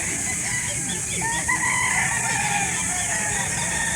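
Chickens cluck and a rooster crows amid a dense, steady barnyard din of overlapping bird calls, with no clear pauses throughout, at a chicken market in Calauan, Laguna.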